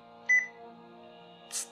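An IBM ThinkPad 380D laptop gives two short electronic beeps during its BIOS power-on self-test, faint and clear, the second higher and shorter, over a quiet steady hum.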